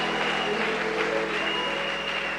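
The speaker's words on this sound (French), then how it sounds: "Nous l'acclamons très fort." A church congregation applauds through a sermon, a dense, even wash of clapping that holds steady at moderate level under a faint hum of voices.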